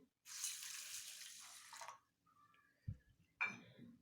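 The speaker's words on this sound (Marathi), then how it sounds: "एक वाटी पाणी घालत आहे" A bowl of water is poured into a pot of rice, pouring steadily for under two seconds with a bright splashing rush, then stops, followed by a couple of soft knocks and a short clatter.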